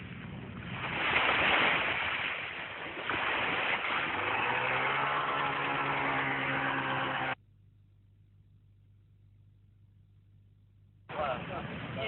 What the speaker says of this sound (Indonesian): pada jarak tertentu mesin motor tempel dihidupkan.